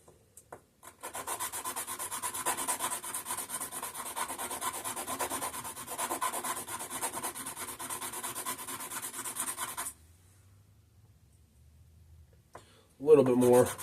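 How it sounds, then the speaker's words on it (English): Sandpaper rubbed back and forth on parts of an antique McCulloch generator recovered from a flooded basement, a steady scratchy rasp lasting several seconds before stopping, followed by a brief clatter. "here's my fresh piece of sandpaper."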